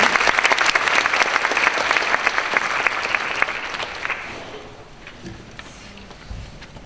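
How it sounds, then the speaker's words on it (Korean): An audience at a school graduation ceremony for Dure School, attached to a church in a village, claps loudly and densely for about four seconds, then the applause thins out and fades to scattered claps. "큰 박수로 맞아주시고요."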